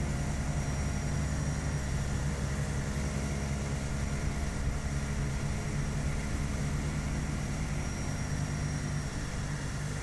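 A Carenado C208B Grand Caravan being hand-flown on approach in the Prepar3D flight simulator gives a steady, loud droning engine and propeller hum that holds unchanged throughout, with no speech.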